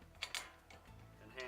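Small metal footrest bracket hardware from a rear seat kit is turned by hand: a few sharp clicks and ratcheting ticks, close and fairly quiet, with brief pauses between.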